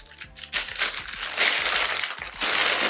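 A plastic bag holding a wig crinkles and rustles up close in quick bursts of crackling while it is handled, over a faint background hum.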